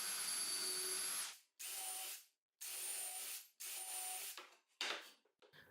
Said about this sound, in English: I'll use the holes I drilled a moment ago as a guide to drill the rest of the pieces.